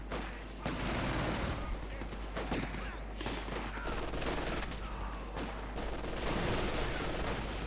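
Centaur anti-aircraft tank in Company of Heroes 2 firing on infantry: dense, sustained rapid automatic fire with a few brief pauses, heavy and continuous across the scene.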